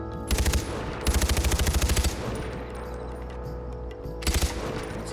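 Automatic gunfire in the video game Far Cry 4 rattles out in three rapid bursts, a short one, a long sustained volley, then a brief final burst, loud over a steady game background.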